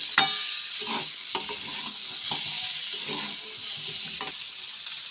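Small potatoes sauté in spiced oil for Bengali aloo dum, a loud, hissing sizzle with repeated spatula strokes against the pan at an uneven rhythm, close up and without voices.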